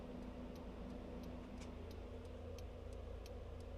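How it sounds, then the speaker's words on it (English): Turn signal relays click through a trailer wiring converter, with regular, evenly spaced ticks under a steady low engine idle hum. "relays clicking"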